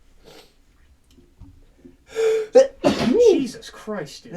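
A single sharp sneeze bursts out partway through, close and loud, with talk and exclamations around it during a casual podcast about Call of Duty Zombies maps.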